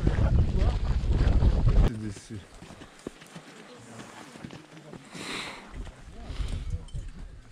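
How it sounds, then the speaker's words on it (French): Storm wind in Iceland's icy landscape blows in a loud, rough rush of gusts against the microphone, strongest at the start, then a lower steady roar that swells again toward the end, with a voice briefly heard. "C'est la tempête. La tempête."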